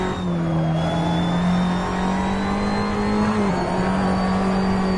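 Ferrari 599XX EVO race car engine in Assetto Corsa, a loud, steady, high-revving drone with a strong tonal whine held throughout, briefly dipping in pitch as it shifts.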